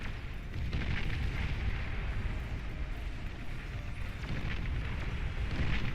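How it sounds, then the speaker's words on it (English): Explosions from an aerial bombing run in the real-time strategy game Beyond All Reason, an 8v8 match, form a dense continuous rumble of booms that stays loud and steady throughout. "Oh, great bombing run as it continues to move through."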